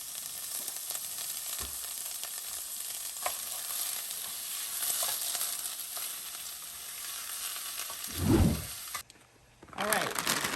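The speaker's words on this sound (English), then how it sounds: "the chicken is cooking" Steady broadband sizzling of chicken frying in a pan, continuous and fairly close, with a couple of brief clatters and a short pause near the end.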